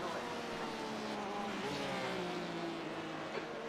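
Race cars in the iRacing simulation at Sebring's 12-hour race, a steady engine drone with rising tonal whine as one car passes another, loud and continuous, with no talk.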